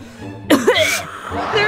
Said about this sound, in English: There's a real sick guy here using an inhaler for his cough.